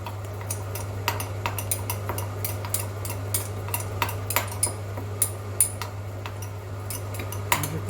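A utensil stirring veal with fennel in a pan, light irregular scraping clicks and taps over a steady low hum, fairly close and unhurried, with no voices.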